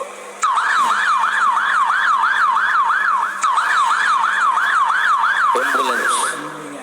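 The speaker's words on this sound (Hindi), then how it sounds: "एम्बुलेंस।" An ambulance siren wails in a fast, regular up-and-down sweep, loud and close, repeating steadily with brief breaks and other faint sounds near the end.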